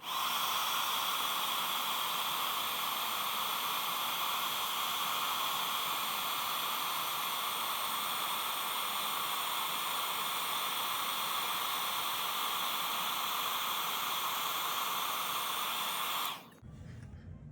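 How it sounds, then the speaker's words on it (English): A heat gun melting embossing powder blows a steady loud hiss and whirring rush of air, unbroken for most of the stretch, then switches off abruptly, leaving quiet room tone. "stand by one moment while I grab my heat gun here"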